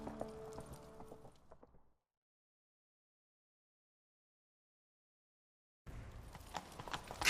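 Horse hooves clip-clop in a gallop in the video game The Witcher 3: Wild Hunt, heard in two short bursts with a long stretch of silence between them.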